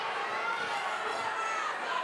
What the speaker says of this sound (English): you can hear the crowd is loving this